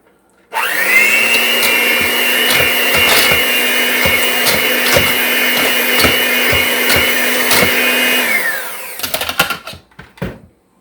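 A kitchen blender runs in one steady whirring blast of about eight seconds while a light Thanksgiving mixture is pulsed, then cuts off and leaves a few clattering knocks.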